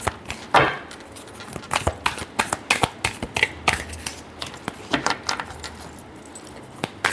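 Tarot cards being shuffled by hand, a quick run of crisp, close riffling and tapping clicks in an irregular rhythm, fairly soft and with no talking over them.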